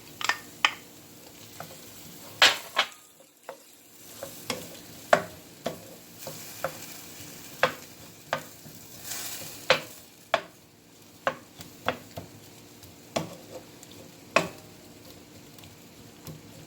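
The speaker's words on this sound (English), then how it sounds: "Let that saute for a little bit." Peppers sautéing in a pan for pollo guisado give a steady close sizzle, punctuated by a regular series of sharp clicks and scrapes from stirring, roughly one every second, with no voices.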